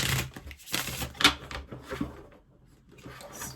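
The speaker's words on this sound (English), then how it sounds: "I'm going to shuffle the deck first." A deck of tarot cards being shuffled makes a few quick riffling bursts and soft papery flutters, close and fairly clear, with brief pauses between them and no voice.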